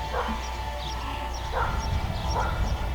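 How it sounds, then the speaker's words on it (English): A dog barks a few times at something near a backyard chicken coop and garden, the yips fairly distant and soft over a steady low background rumble. "barking at something"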